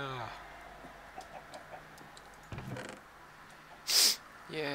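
A chicken in a Minecraft-style video game clucks in short bursts, mixed with a few other brief game sounds and a sharp high blip near the end.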